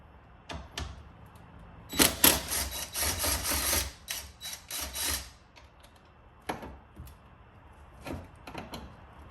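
Hand tool working two 10mm bolts loose at the front trunk of a Tesla Model X during a power frunk installation: a dense burst of rapid metallic ratcheting clicks and clatter, near and loud, followed by scattered sharp taps.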